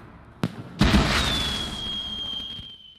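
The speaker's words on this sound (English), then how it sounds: "Fireworks." Fireworks from a fantasy film scene set at a wizarding school: a sharp crack followed by a louder burst, then a long descending whistle trailing off over a fizzing crackle, all fairly close.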